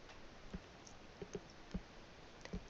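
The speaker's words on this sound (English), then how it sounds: "I'm just going to press X on my keyboard to put black on top" A computer keyboard key is pressed, giving a few quiet, crisp clicks at an irregular pace in a near-silent room.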